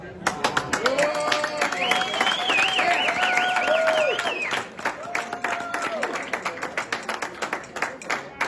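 Audience applause and cheering for a polka concertina player at a hall of fame presentation, sustained clapping with a loud whistle over it, thinning into scattered individual claps toward the end.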